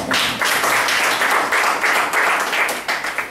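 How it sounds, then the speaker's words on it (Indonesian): An audience claps loudly and steadily throughout, a dense wash of applause at close range with slight swells in intensity and no speech over it. "Bagi yang mau tepuk tangan silakan."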